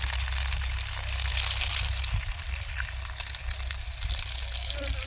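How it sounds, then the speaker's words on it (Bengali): Rice is washed in water in a home kitchen, a continuous close swishing and gushing of water with no breaks and no speech. "চালটাকে ধুয়ে দিলে ভালো হবে"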